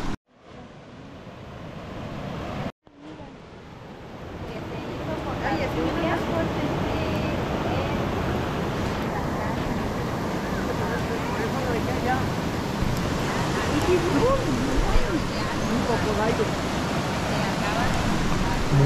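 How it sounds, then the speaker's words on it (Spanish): Loud, steady rush of a river swollen by Hurricane Lidia in Jalisco, broadband and continuous, with a brief dropout near the start and a talking voice partly mixed in. "para que le tanteen cuánta es el agua que está corriendo en este río"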